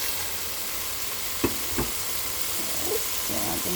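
Hotdogs frying in a pan for pastaghetti, a steady hiss of sizzling fat with a couple of sharp knocks of pieces or utensil against the pan and light stirring scrapes.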